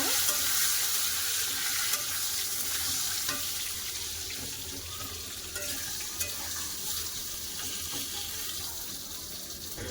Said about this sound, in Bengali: বেগুন ভেজে নেবো ওই তেলে